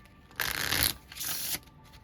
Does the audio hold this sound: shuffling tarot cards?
yes